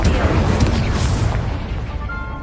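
Confringo spell blasts in a Hogwarts video game, a loud booming explosion with rumbling low end that crackles briefly and decays over a couple of seconds, close and full.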